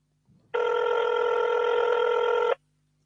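A phone switched on by an accidental touch gives out a loud, steady electronic ringing tone for about two seconds, starting abruptly and cutting off just as sharply, with no voices over it.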